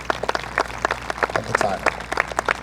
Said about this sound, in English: another round of applause for each and every young lady up here